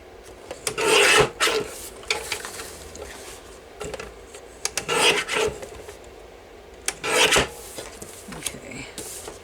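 Paper is trimmed for a handmade junk journal with a series of close, dry rasping strokes that come in short bursts separated by brief pauses.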